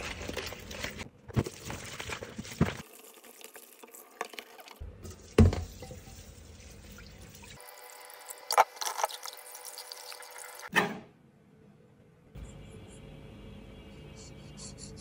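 Tap water running over fish being rinsed clean at a kitchen sink, with steady splashing that breaks off and returns in stretches alongside a few clinks and knocks, close and fairly quiet.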